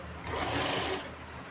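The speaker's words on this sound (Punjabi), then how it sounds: "ਇਹ ਆਪਣੀ ਸਲਾਈ ਅੱਧੀ ਵੱਜੀ ਹੋਈ ਆ ਆਪਾਂ ਬਾਕੀ ਸਲਾਈ ਮਾਰਾਂਗੇ" A sewing machine runs one continuous close, loud whirring burst while stitching the fitting seam of a kameez from the hip line.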